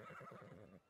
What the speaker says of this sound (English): Look, it's a unicorn.